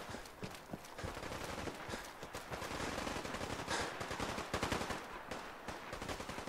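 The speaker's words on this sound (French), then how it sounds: "Les coups de feu viennent de par ici." Fallout 4 combat crackles with rapid, continuous gunfire, dense bursts of shots rattling close and loud throughout, with no voices over it.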